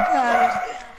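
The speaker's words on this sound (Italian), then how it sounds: "il tuo cane" A single dog bark, loud and close, with a sharp tonal yelp that trails off within a second.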